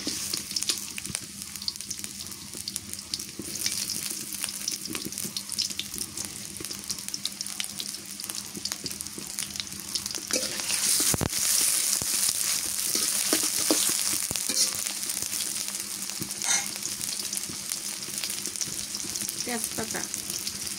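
Onions sizzle and fry in hot oil in a village kitchen, a steady dense crackle running throughout, with occasional stirring clatter and a brief sharp knock near the middle.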